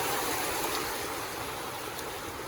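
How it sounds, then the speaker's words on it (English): Floodwater in The Gambia gushing up like a fountain, a loud, steady rushing roar of water with no pauses. "So that is what is creating all this, you know, gush of water on the other side."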